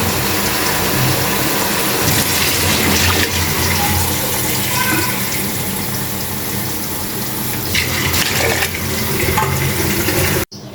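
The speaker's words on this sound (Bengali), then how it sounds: "তো এখন আমি ঝোলের পানি দিয়ে দেবো।" Water gushes and pours continuously into a pot of fish curry with fried fish heads to make the gravy, a loud, splashy flow that cuts off abruptly near the end.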